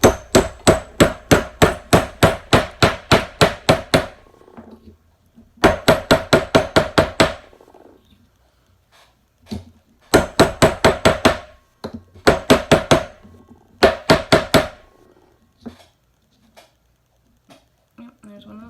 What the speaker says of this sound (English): You start in the middle, hammer it straight down, and then you just kind of work your way around.